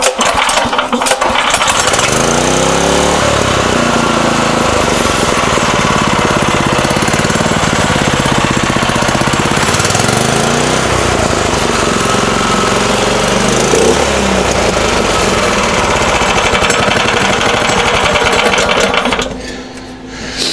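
A small buggy engine runs loud and close with a fast, rattling, chattering putter that holds steady for most of the stretch, then drops off near the end.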